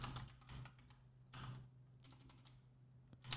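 Keys tapped on a computer keyboard while writing Python code, short bursts of quiet, close clicks separated by brief pauses, no talking.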